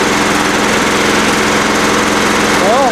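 A John Deere L110 lawn tractor engine runs steadily up close, a loud, continuous mechanical drone with a rapid, even pulse and no break.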